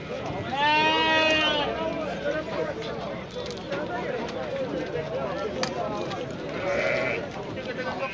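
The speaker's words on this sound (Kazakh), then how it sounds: "Құйрықты қойлар екен." Fat-tailed sheep bleat loudly at a busy livestock market, a strong wavering bleat up close followed by more calls and a fainter one later, with crowd noise and scattered voices around.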